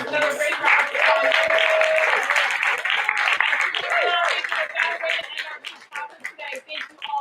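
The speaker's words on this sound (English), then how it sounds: "let's give David B." Audience clapping for a folk music performance at a museum Chautauqua, a sustained round of applause from a modest crowd that thins toward the end, with voices and a child's chatter mixed in.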